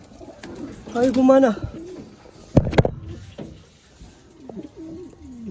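Racing pigeons arriving at a loft in Matnog, Sorsogon after a 349 km race coo in a few soft bursts near the mic, with a sharp clatter midway and someone talking quietly around them.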